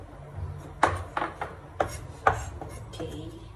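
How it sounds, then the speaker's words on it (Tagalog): Garlic being minced with a knife on a board: a series of sharp, close chopping knocks at an irregular rhythm, with quieter scraping and rubbing between strikes and no talking. "Pinipino ko na lang yung bawang natin."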